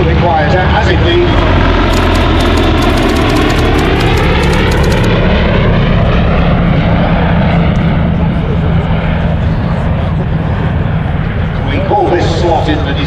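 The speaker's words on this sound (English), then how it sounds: "I'm glad to say the Bristol Pegasus is just that little bit quieter" A vintage aircraft powered by a Bristol Pegasus engine flies past at a Shuttleworth air show, its loud, throbbing piston-engine drone rising and falling as it passes, with a commentator talking over it.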